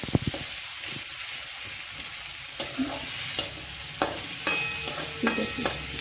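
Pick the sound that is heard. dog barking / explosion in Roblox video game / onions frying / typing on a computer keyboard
onions frying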